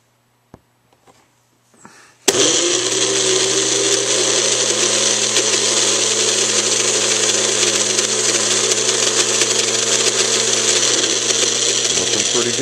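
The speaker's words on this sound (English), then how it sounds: "Let's see how this does in the old food processor." Food processor blending a ramp pesto with olive oil, starting after a few light clicks and then running loud and steady with a constant whine until the end, no talking over it.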